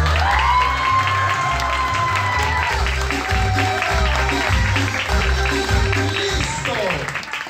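A party crowd at a celebration in Tampico Alto, Veracruz, breaks into applause and cheering, with clapping and whoops mixed with loud music carrying a steady bass beat.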